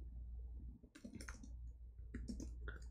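Faint computer keyboard typing, a few quick clusters of soft key clicks separated by short pauses, quiet and close.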